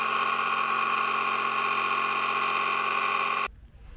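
A jigsaw cuts a 2x6 piece of lumber for a boat beam, outdoors. The motor gives a loud, steady buzzing whine that runs for over three seconds, then stops abruptly, leaving a short quiet tail.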